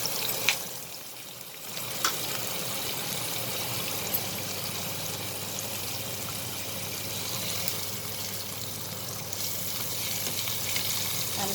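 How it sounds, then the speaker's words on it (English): Carrot and capsicum sizzle and crackle steadily in a hot pan for potato noodles, a continuous close frying hiss with occasional sharp pops and no talking. "Now I am adding the carrot and the capsicum."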